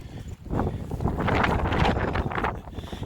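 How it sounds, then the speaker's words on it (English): Strong wind buffets the microphone at Lady Finger Point, a loud continuous roar swelling and easing in gusts over a few seconds with no speech. "getting out of the wind so that I can have some quiet, because the constant noise in my ears and trying to film in this is horrible"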